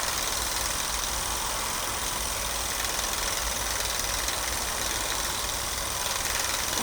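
A small Meccano toy steam engine runs steadily at speed, its piston chugging in a fast, continuous mechanical clatter with a hissing, broadband rush throughout, close and unbroken, with no talking.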